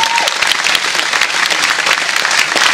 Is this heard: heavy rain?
no